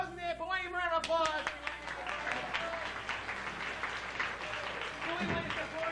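Audience applause at an improv comedy show, a 1996 championship in Kansas City: steady dense clapping from a crowd filling the room, continuous and fairly loud throughout with a few voices mixed in.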